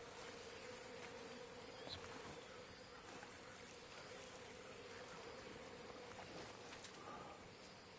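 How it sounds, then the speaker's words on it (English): Bees buzz in the video game Metal Gear Solid Delta, a faint, steady droning hum that holds evenly throughout with no speech over it. "There's bees."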